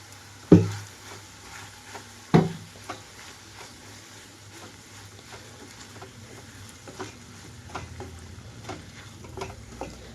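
Ivy gourd pieces frying in a pan with lentil spice powder, a soft continuous sizzle broken by a couple of sharp knocks of a spoon and scattered light ticks, close and unaccompanied by voices.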